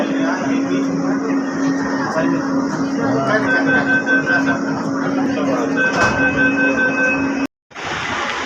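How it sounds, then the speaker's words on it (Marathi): Steady mechanical hum and whine of a metro train at Mandai metro station in Pune, with a sustained tone and rumble, brief voices in the background, ending in a sudden cut. "आता आम्ही पोचलो आहोत मंडई मेट्रो स्टेशनला"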